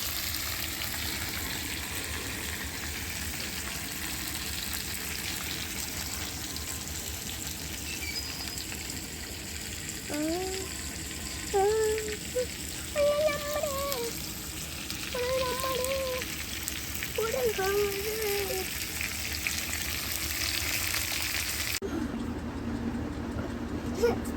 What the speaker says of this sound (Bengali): আলুগুলো সবজিগুলো একটু হালকা ভেজে নিচ্ছি